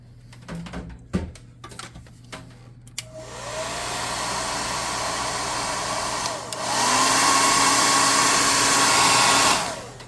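After a few handling knocks, a blower switches on to dry tabletop swamp terrain pieces, a loud steady whooshing roar that steps up in speed midway and then cuts off near the end.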